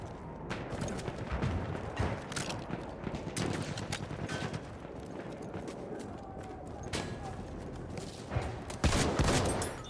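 Rapid gunfire and sharp sniper shots from Battlefield 6, crackling in bursts and single cracks over busy battlefield noise, with a loud burst near the end.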